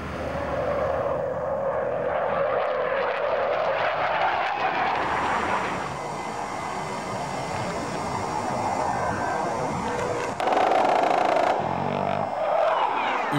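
A fighter jet flies past fast at low altitude, a loud continuous roar with a shifting whine that swells and changes pitch, growing harsher near the end.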